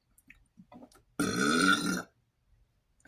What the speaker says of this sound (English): hold on, I gotta burp.